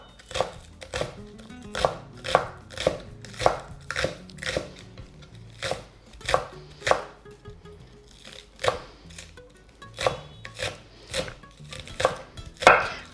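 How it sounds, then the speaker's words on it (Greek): A knife finely chops fresh spring onions on a board, quick rhythmic taps in short bursts with brief pauses between, close and clear, no talking. "Ψιλοκόβω μερικά φρέσκα κρεμμυδάκια"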